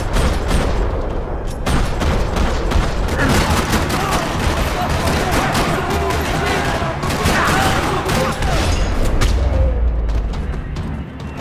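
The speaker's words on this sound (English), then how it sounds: "Another parking lot rattling with gunfire." Gunfire echoing through a parking lot in the game Max Payne 3: dense, loud volleys of shots and booms overlapping almost continuously, with a brief quieter gap near the start.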